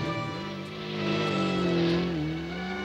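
A steady droning engine roar with a pitch that rises and falls slightly, continuous throughout with no voices.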